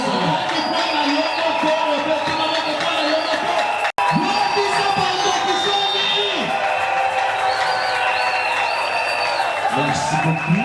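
A church congregation at a Sunday service cheering, whooping and shouting together in a loud, sustained crowd roar. Several voices rise above the mass throughout, with one brief break partway through.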